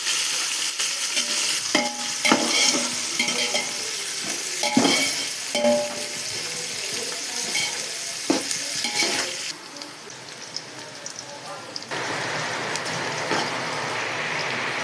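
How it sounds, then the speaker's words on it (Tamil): Onions and green chillies sautéing in a pan for biryani, a steady, loud sizzle with frequent clinks and scrapes of stirring through most of the stretch, then a smoother hiss of frying near the end, with no talk. "பச்சை மிளகா போட்டுக்கோங்க. வெங்காயம் ஆட் பண்ணிக்கோங்க. நல்லா வதக்கி விட்டுக்கோங்க."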